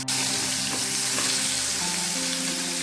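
Onions fry in mustard oil in a home kitchen for a small-fish curry, producing a loud, continuous close sizzle with occasional light stirring sounds and a steady background hum.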